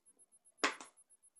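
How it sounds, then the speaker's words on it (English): Slap bracelet snapping shut around a wrist: one sharp, quick double slap with a faint clack, close and alone in a quiet room. "So I've got a slap bracelet,"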